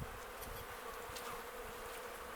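Honey bees buzz thickly during a hive inspection in an apiary, a dense close drone of many wings with individual bees whizzing past, steady and moderately loud, without voices.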